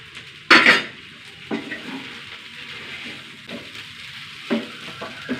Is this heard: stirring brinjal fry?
yes